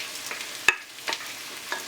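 Faint stirring scrapes as sweet corn fries in a pan of seasoning, over a low background sizzle, with a sharp clack and a few soft scuffs spaced through the moment.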